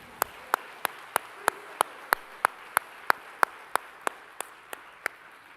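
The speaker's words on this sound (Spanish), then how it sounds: "Y ahora vamos a darle un fuerte aplauso a nuestros padres también." During a church service, the congregation claps in tribute to fathers: around fifteen crisp claps in a regular rhythm, fairly quiet and alone.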